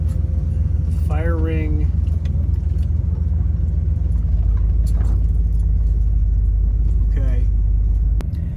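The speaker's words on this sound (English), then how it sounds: "I've got the AC cranking here in the Vantasy." Air conditioning runs hard inside a camper van parked in the woods, a constant low droning hum filling the background while a person speaks briefly over it.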